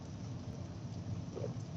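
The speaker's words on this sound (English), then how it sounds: "it's starting to rain here down in Southwest Florida for the day" Steady rain beginning to fall in Southwest Florida, a constant dense wash of drops heard from inside a delivery driver's car, even and unbroken, with no talking.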